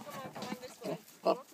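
A billy goat bleats in a few short, nasal calls, the loudest one near the end, with a person talking to it close by between the calls.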